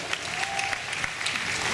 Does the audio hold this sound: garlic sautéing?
no